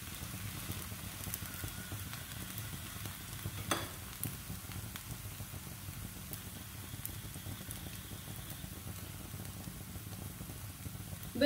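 A sweet cheela cooks in a pan over a very low flame, giving a steady, even sizzle that runs unbroken throughout, with a faint clink near the end and no voices.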